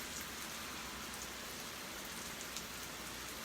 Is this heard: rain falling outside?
yes